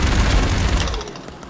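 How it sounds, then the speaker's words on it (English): Minigun fire in the video game The Expendabros, a loud, dense continuous burst of rapid shots with heavy low rumble that cuts off after about a second, leaving a short fading tail. "This minigun has a major recoil."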